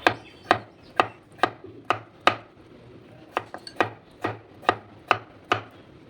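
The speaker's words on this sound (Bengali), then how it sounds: "এই আলুটাকে আমি একেবারে পাতলা পাতলা করে কেটে নেব" Knife blade chops through thinly sliced raw potato on a cutting board, about a dozen crisp taps in a mostly steady rhythm with a brief pause midway, close and fairly loud, no speech.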